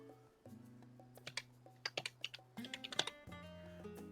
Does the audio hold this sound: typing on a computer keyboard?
yes